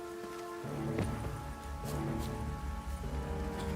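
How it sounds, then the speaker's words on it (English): Steady rain falls in The Witcher 3, a continuous dense hiss of drops on surfaces with faint low rumbling beneath, loud and unbroken throughout. "I know it's raining"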